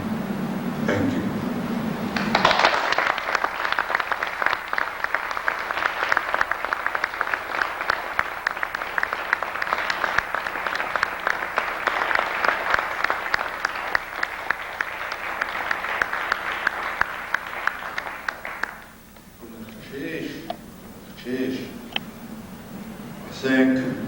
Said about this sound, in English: our storytellers deserve another rousing round of applause.